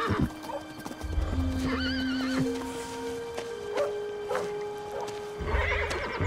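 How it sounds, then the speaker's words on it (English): A horse named Penny whinnies loudly in a wavering, harmonic call while hooves clatter close by in short bursts at the start and end, with frightened stamping and movement around it. "You spooked my horse!"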